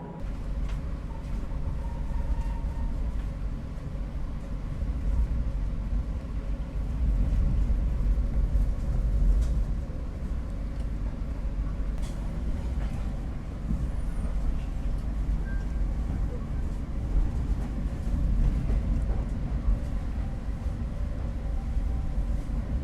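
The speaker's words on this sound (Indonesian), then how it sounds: "Setelah kereta api Brawijaya diberangkatkan dari stasiun Blitar" The Brawijaya passenger train pulls out of Blitar station at dusk in light drizzle, a low steady rumble of wheels and engine heard from inside the carriage, moderately loud and even, with faint clacks.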